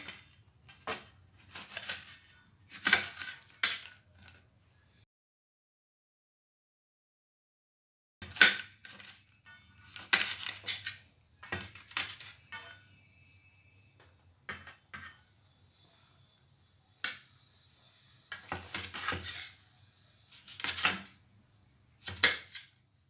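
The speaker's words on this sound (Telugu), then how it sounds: "సో నేనైతే ఇప్పుడు పండుమిర్చినంతా కూడా ఒక హాఫ్ కట్ చేసుకుంటాను" Ripe red chilies sliced in half with a knife on a board for a preserved chili pickle, giving sharp irregular taps and clicks in bursts with a short pause midway.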